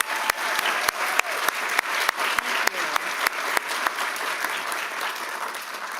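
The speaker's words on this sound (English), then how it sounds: "so let's give her a round of applause." Loud, sustained applause from an audience at a nursing graduate school awards and scholarship celebration, dense clapping filling the room with a few sharp, prominent claps cutting through at regular intervals.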